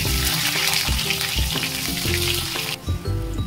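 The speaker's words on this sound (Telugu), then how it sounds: "ఇప్పుడు కట్ చేసుకున్న కూరగాయల ముక్కలు వేసేస్తున్నాను" Chopped vegetables sizzle in hot oil spiced with garam masala and whole spices, a loud, continuous crackling fry close up, with rhythmic scraping and stirring knocks in the pan and no voices.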